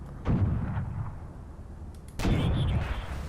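Tank guns fire in the World War II tank video game Steel Aces, with Panzer III and Panzer IV tanks in play: two heavy, booming cannon shots about two seconds apart, each with a short rumbling tail over low engine noise.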